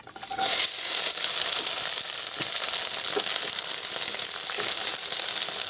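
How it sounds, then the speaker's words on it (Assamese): Okra frying in hot oil in a pan, a loud continuous sizzle and crackle with small stirring knocks throughout. "আৰু প্ৰথমতে মই এইদৰে ভেন্দিখিনি অলপ ফ্ৰাই কৰি ল'ম।"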